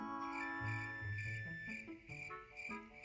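Crickets chirping steadily with a shrill, continuous trill, while a low tonal hum shifts underneath.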